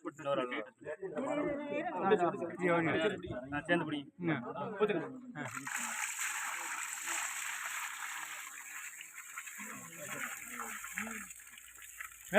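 Water is poured and splashes steadily for several seconds at an outdoor school groundbreaking ceremony, following a stretch of people talking nearby.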